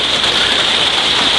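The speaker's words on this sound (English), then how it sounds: "when the rain stops." Steady rain falls hard and continuously, a dense, loud hiss of drops pattering on a surface with no pauses.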